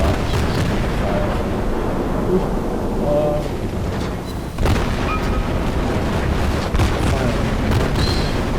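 Naval guns fire in World of Warships in a dense, continuous rumble of heavy booms, with one sharp blast near the middle standing out. Game effects keep the level loud throughout, and no voice is heard.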